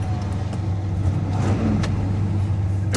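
A big-block GMC truck engine starting and settling into a low, rumbling idle, loud and close, with a steady deep drone and no talking.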